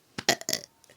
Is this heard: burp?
yes